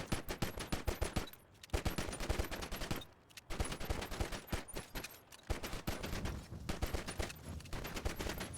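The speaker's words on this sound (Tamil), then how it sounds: "இந்த வண்டி வந்து எத்தனை புல்லட் வந்து தாங்குதுன்னு பார்த்துருவோம்" Rapid automatic gunfire pours into a Hayabusa motorcycle in the video game GTA V, dense bursts of shots with short pauses between volleys, loud and continuous, no talking.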